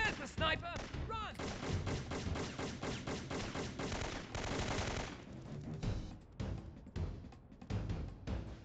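Rapid bursts of gunfire from a sniper in the Syphon Filter video game, dense and continuous at first, then thinning into scattered shots, with a voice at the start.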